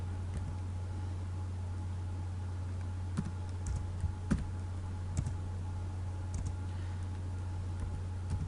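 Scattered keystrokes on a computer keyboard as a word is typed, faint and close, a few irregular clicks over a quiet room hum.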